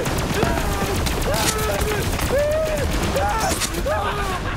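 Rapid gunfire from a legendary weapon with a 48-round magazine and switchable elements in the shooter game Borderlands 3, sustained and loud with bursts and whooshing tonal effects layered over dense game sound.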